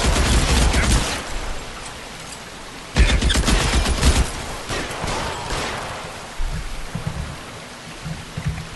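Video game gunfire crackles in dense bursts, loud and close, with a brief lull near the second mark before the volleys resume and then taper into scattered shots.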